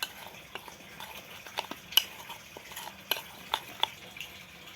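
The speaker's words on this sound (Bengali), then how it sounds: "এবার সবগুলোকে ভালো করে আমি একটু মিশিয়ে নেব" A Maggi pakora mixture with flour, salt and pepper is stirred by hand, giving quiet, irregular scrapes and occasional sharp utensil clicks against the container, with no speech.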